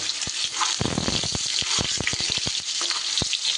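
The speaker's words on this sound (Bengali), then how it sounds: "এইবার সিদ্ধ আলুগুলো আমি সুন্দর করে ভেজে নেব" Boiled new potatoes frying in a pan for a Bengali vegetarian aloor dum, with a steady dense sizzle and a string of sharp crackles and pops spread across the whole stretch, close and alone.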